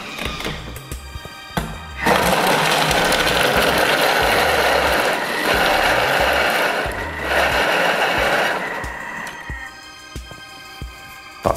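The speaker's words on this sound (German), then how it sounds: "und auch das wird jetzt zerkleinert, und zwar auf Stufe 5." A Thermomix runs at a steady speed for several seconds, chopping ingredients for a pumpkin chili with a dense whirring churn. It starts and stops abruptly, with quieter clicks and knocks before and after.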